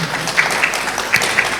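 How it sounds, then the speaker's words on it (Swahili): An audience at the launch event of Sky International TV Dodoma applauds for the station, a loud, close burst of many hands clapping together, dense and continuous over the short stretch. "Makofi kwao kwa heshima kubwa zaidi."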